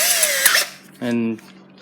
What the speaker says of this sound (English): we're just gonna drill right on the very edge, making sure not to puncture into the lettering